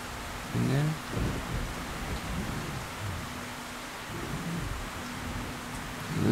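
Constant hiss of steady rain with a low rumble underneath, fairly quiet and continuous throughout, in the game Metro: Last Light.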